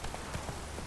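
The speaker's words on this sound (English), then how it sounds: "Whoa there, Roach" Horse hooves of the mount Roach in The Witcher 3: Wild Hunt, a quick run of soft clip-clop steps at a steady trot, fairly quiet over a low game ambience.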